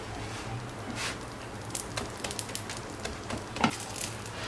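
A thin crepe fries in a pan with soft, steady sizzling broken by scattered light crackles and pops, heard close and fairly quiet.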